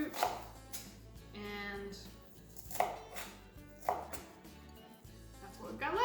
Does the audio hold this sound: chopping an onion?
yes